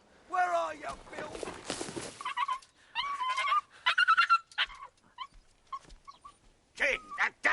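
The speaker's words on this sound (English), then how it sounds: "that damn dog!" A dog in a period drama setting whimpers and yelps in high, whining bursts mixed with barks, close and fairly loud, while people shout and talk over and between the cries.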